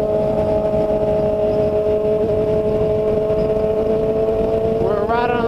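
A group of seven motorcycles cruising on a highway, a steady loud engine drone with wind noise throughout and a rising engine pitch near the end.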